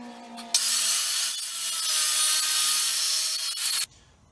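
Close, steady back-and-forth handsaw strokes cutting through wood from an old used crate, one continuous run of sawing lasting about three seconds before stopping abruptly, with no talking.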